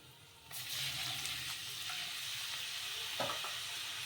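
Water poured into a pan of sizzling Maggi-masala vada mixture, a steady hissing frying sound that starts abruptly and continues with light stirring clinks, fairly quiet and close.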